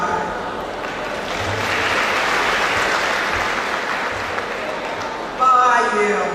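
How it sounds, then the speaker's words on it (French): A large audience applauds warmly for new graduates at a ceremony, a dense, steady wash of clapping that swells and holds, with a voice starting to speak over it near the end. "Vous applaudis encore chaudement"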